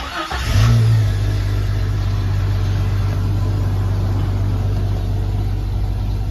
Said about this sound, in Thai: สตาร์ททีเดียวติดนะครับ